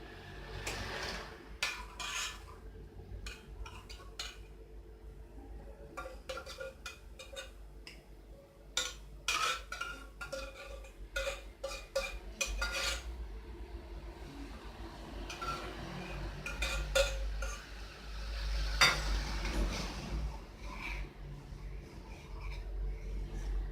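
A ladle clinks and scrapes against a pot as light Turkish vermicelli soup with egg-lemon liaison is poured over sizzling mint, giving a string of sharp metallic taps, some close and loud, over a low steady background hum.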